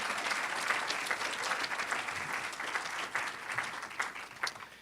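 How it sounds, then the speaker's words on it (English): Audience applause at an educator awards event, honouring administrator finalists: a continuous round of many hands clapping, steady and close, fading slightly toward the end. "How about another round of applause for our Administrator of the Year finalists?"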